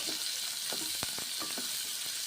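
Tomatoes fry in a pan of onion and bori, with a steady broadband sizzle running throughout and a few soft stirring scrapes in between.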